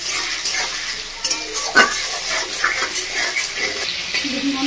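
Tomatoes fry in a pan for a bhola fish curry, a bright hissing sizzle broken by scraping spatula strokes and a few metallic knocks, close and continuous with no voices.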